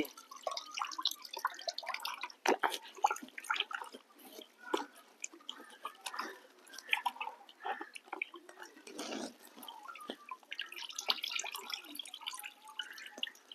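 Soft, irregular drips and wet squelches close by as wet neem seeds are squeezed by hand for an extract, quiet and uneven throughout.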